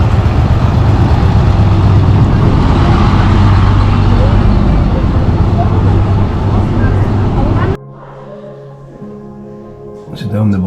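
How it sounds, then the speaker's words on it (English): An old bus at Beamish Living Museum rumbling close by with a loud, steady engine roar that cuts off abruptly, followed by quieter background sounds and brief talk. "An old bus for you."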